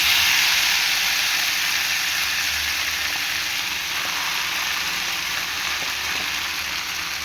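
Bottle gourd leaves fry in hot oil tempered with nigella seeds and dried red chillies, a steady loud sizzle and hiss that slowly eases over several seconds, close by, with no talking.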